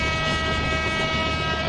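A steady, loud horn from twin ALCO WDM diesel locomotives drones without a break in the MSTS train simulator, its layered tones sitting over a continuous rolling rail rumble.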